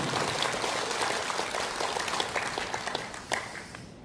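A crowd at a political party gathering breaks into applause, a thick, continuous patter of many hands clapping that stays loud and fairly even before tapering slightly at the end.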